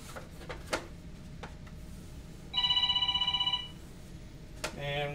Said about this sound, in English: And we've got a phone call.